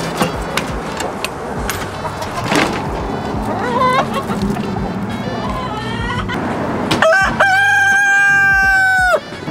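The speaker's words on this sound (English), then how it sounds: "We have this rooster." A rooster crows loudly and close by, a long drawn-out call near the end, after a stretch of clucking and background rustle.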